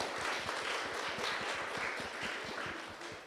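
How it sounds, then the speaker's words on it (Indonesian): A hall audience applauds continuously in a dense, steady wash of many hands clapping, fairly loud and sustained throughout with no talk over it. "Tepuk tangan untuk kita semua."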